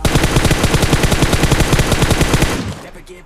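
Rapid automatic gunfire in PUBG Mobile during a duo-versus-squad match, a steady loud burst of evenly spaced shots for about two and a half seconds before cutting off.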